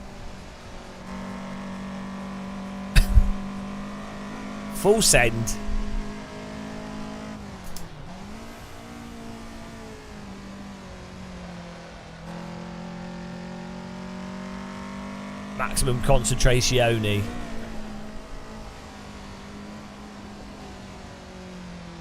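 Race car engine droning through a lap in Assetto Corsa Evo, steady revs with brief gear-change dips and louder bursts of revving, a voice talking briefly over it.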